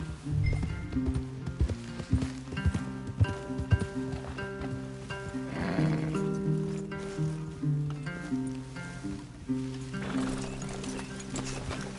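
Horses in the Western game Red Dead Redemption 2 clop along with steady hoofbeats and give a couple of clear neighs and whinnies, set against soft music and ambient outdoor sound.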